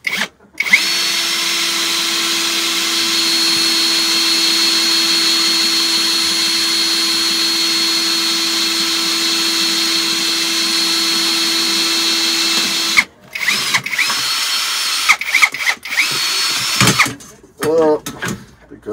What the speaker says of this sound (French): donc là je l'ai passé sur perceuse, donc je vais l'utiliser en perceuse